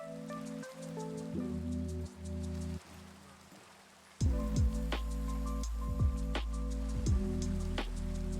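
Video game rain weather falls as a steady hiss of drops on surfaces, layered with game music tones that cut out briefly before a fuller, louder section resumes partway through.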